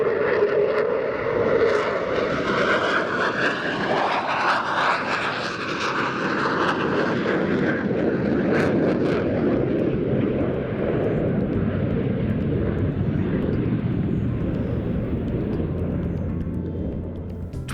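A Spanish Air Force Eurofighter Typhoon jet performs a flying display at an air show, its loud engine roar sweeping and rumbling continuously throughout as the aircraft passes and manoeuvres.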